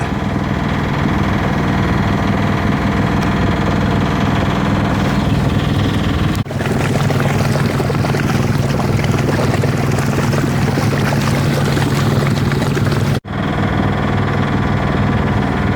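A small sailboat under motor power, engine droning steadily and loud throughout with water rushing against the hull, broken by two brief dropouts.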